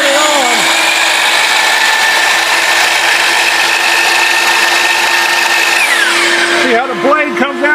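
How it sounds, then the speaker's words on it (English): A DeWalt power tool runs loud and steady with a constant motor whine, then spins down near the end as a voice begins talking. "you take the DeWalt, and it's very loud"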